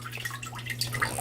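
Water trickles and drips in an indoor aquaponic garden, a soft, close, continuous patter of small droplets over a steady low pump hum.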